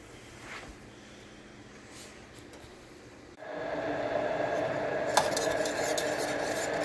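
A spoon scrapes and clinks as it stirs a vinegary sweet cucumber salad in a pot on the stove, growing louder and busier halfway through as the metal knocks keep coming.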